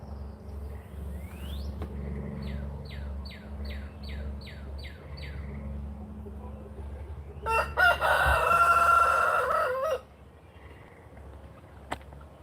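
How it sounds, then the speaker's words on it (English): A rooster on a farm crows, followed by a run of quick, repeated chirping calls and then a loud, rough crow a few seconds long, close by over a steady low background rumble. "It starts crowing."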